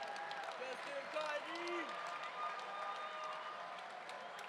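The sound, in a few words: audience applause for fighters at a martial arts event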